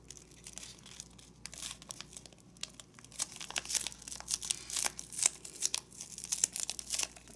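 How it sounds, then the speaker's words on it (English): Paper being folded and creased for an origami gauntlet, close-up crinkling and rustling with sharp crisp snaps, continuous and irregular, with no voices. "let's bring this edge over to this edge, and let's make a new fold in between right here"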